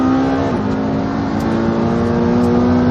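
A Porsche 918 Spyder and a McLaren P1 launching hard off the line, a loud sustained engine roar with a steady rising drone, close and continuous throughout.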